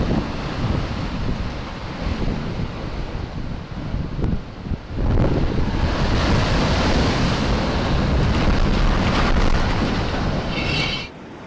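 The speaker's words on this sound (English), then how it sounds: "Strong waves in Portugal decide to give some garbage bins a good clean." Strong ocean waves crash over a jetty on the coast of Portugal, a loud, steady roar of surf and churning water with heavy wind noise throughout and a surge that swells midway and keeps rolling.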